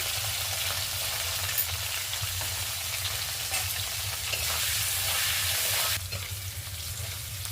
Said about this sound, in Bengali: ফুলকপিটা আমাদের এবার ভাজা হয়ে গিয়েছে, লাল হয়ে গিয়েছে